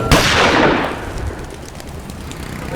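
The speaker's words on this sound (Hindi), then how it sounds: "अचानक ये बुलेट की आवाज़ सुनी अभी" A single loud gunshot cracks out close by in a street, followed by a long rolling echo that fades over a couple of seconds, with no voices.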